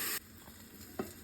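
Eggplant pieces frying in oil in a covered pan for a boal fish curry with bori; a loud, steady sizzle cuts sharply quieter as the lid shifts, followed by a soft hiss and a brief clatter near the end.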